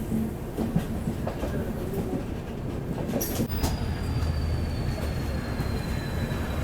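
A train rolls into Govindpuri Junction station on the Delhi–Kanpur main line, a steady rumble and clatter of wheels with a thin metallic squeal rising partway through, heard from on board with no talk.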